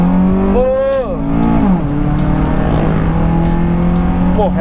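A Honda Civic FD Type R lookalike on coilovers drives hard, its engine droning loudly inside the cabin as revs rise, dip with a gear change, then hold steady through a corner.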